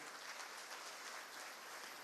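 A church congregation applauding during a sermon, a dense, even wash of many hands clapping together, heard faintly and from a distance, with no voices rising above it.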